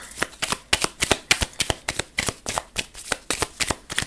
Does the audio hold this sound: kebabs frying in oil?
no